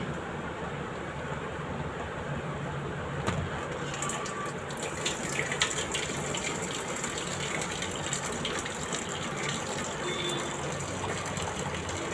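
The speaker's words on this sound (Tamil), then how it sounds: "சாதம் வடிச்சு விட்டுடலாம்." Starch water is poured off cooked rice in a steady, close gushing stream that keeps running throughout without pause.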